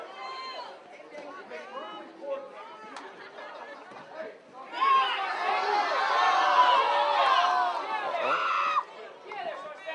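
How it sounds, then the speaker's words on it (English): Audience at an Army combatives competition: crowd chatter and indistinct talk at first, then a swell of cheering and shouting for several seconds before it drops back to murmuring voices. "We have the audience, the sponsors, people cheering their competitor on."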